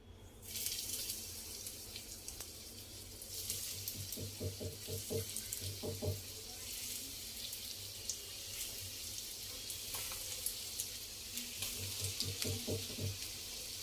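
Poha and grated-cabbage cutlets frying in hot oil give a steady close hiss and crackle, with brief bursts of bubbling that come and go.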